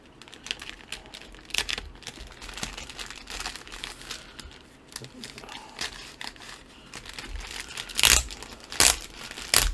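A book package wrapped in heavy packing tape is unpacked with intermittent crinkling, crackling and tearing bursts up close, growing louder and sharper toward the end.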